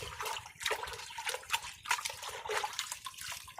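Jaggery is stirred into water, giving steady sloshing and trickling liquid sounds with splashy bursts, close up and moderately loud, with no voices.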